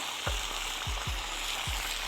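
Meat tossed into a hot cauldron for borscht sizzles steadily, with several sharp hissing bursts as pieces hit the oil, close and fairly loud with no voices.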